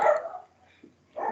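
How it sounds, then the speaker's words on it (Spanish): Dogs bark in two short bursts, one at the start and another near the end, fairly close and loud against a quiet indoor background during an online tutoring session. "Pido disculpas por los perros."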